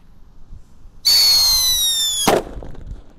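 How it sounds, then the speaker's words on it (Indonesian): A King Thunder whistling firecracker lets out a loud, shrill whistle for about a second, then ends in a sharp bang, with quiet surroundings before and after. "Selanjutnya ini ada mercon whistling king thunder."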